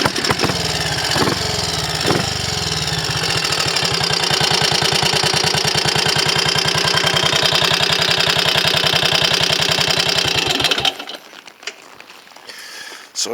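A Triumph Scrambles Cub replica motorcycle runs on an Amal 376 Monobloc carburettor, its single-cylinder engine popping in a steady, fast, loud rhythm close by for about eleven seconds before cutting out abruptly, leaving quiet rustling.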